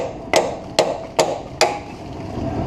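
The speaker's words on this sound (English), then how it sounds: "you can take the punch and put it back up in that hole that we just made with the broken bolt, and you want to punch that back out" A hammer strikes a punch four times at a steady pace, driving out a broken bolt on a 1977 Ford Thunderbird during exhaust leak repair; each sharp metallic blow is close and distinct.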